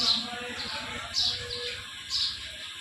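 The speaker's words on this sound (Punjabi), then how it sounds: "ਇਹ ਔੜ ਉੜ ਗਈ ਚਿੜੀ" Three bright, high chirps from a sparrow at a nest with chicks ring out at roughly even intervals over a low background murmur.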